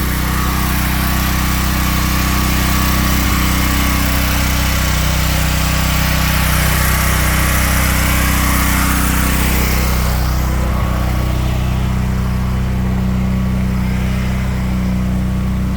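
A propane-fuelled generator engine runs in a steady, loud drone with a constant low hum, unchanging across the whole stretch, with a slight shift in the upper noise partway through.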